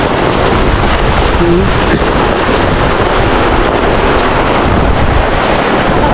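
Strong wind buffets the microphone at an outdoor fishpond, a steady loud roar of broadband rumble with no pauses, sounding like close gusts and water noise.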